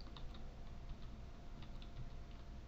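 Faint, quick clicks of a computer keyboard as a date is typed into a form. Irregular keystrokes sit over a low background hum, with no talking.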